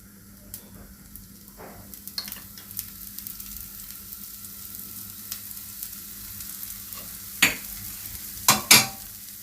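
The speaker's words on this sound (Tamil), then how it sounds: "தோசை வந்து ஊற்றியாச்சு. கொஞ்சம் லைட்டாக வெந்ததுக்கப்புறம் நம்ம இதில் ஆயில் விடலாம்." Dosa batter cooking on a tava, with a soft, steady sizzle throughout and a few sharp metallic clinks and scrapes near the end, no voices.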